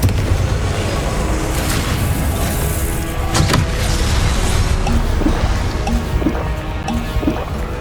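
Confringo explosion spell blasts in the video game Hogwarts Legacy: booming hits stand out, one strongest near the middle, amid dense, continuous combat noise with no speech.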